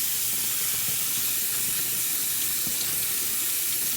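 Cucumber seeds are rinsed under running water, a continuous close hiss and splash of flowing tap water that stays even and loud throughout.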